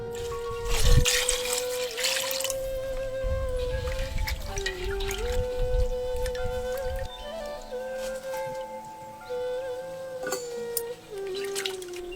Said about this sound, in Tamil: நறுக்கிற மீனை இப்ப தண்ணி ஊத்தி சுத்தமா கழுவ ஆரம்பிச்சிடலாம்.